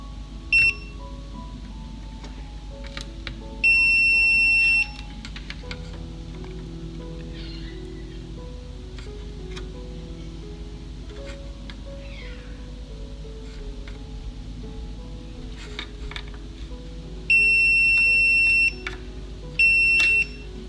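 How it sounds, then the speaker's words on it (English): A multimeter gives continuity beeps while probing a fuse on a shorted Gigabyte GTX 980 Ti graphics card: a steady high tone held about a second, then two more sustained beeps near the end, over faint background noise. "This fuse should not beep."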